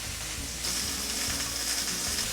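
A steak fries in a pan with garlic and butter, giving a loud, steady sizzle close by that swells slightly partway through.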